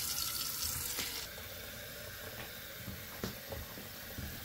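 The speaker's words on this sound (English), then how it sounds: "Fill this up with water, right?" Water runs steadily into the tank of a Waterfirst reverse osmosis purifier, a continuous broadband rush with a few small clinks, close and moderately loud, no talking.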